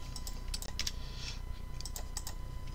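Quiet clicking of keys on a computer keyboard, a handful of quick irregular taps over a steady low hum.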